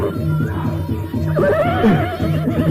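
A horse neighs loudly over a rhythmic, steady background pattern, the whinny rising and wavering for about a second, set in a radio drama scene where the horse is sinking into a thick pit of quicksand mud.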